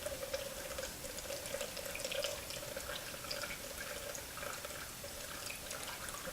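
Melted butter is poured off its milk solids in a faint, steady thin trickle of liquid with a light continuous hiss, quiet and without talk.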